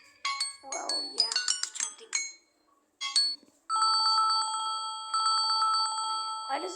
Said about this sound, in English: It's a classic bell. It sounds like a telephone